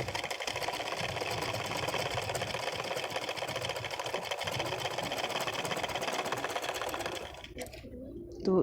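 A sewing machine runs steadily and close, stitching pleats into a saree with a continuous whirring chatter that cuts off near the end.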